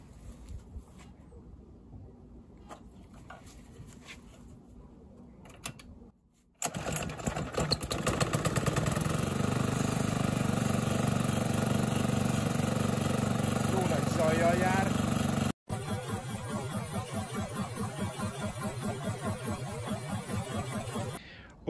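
A small petrol engine running on wood gas and driving a generator starts up after a quiet stretch and runs loudly and steadily, cuts out for an instant, then buzzes on at a rough idle.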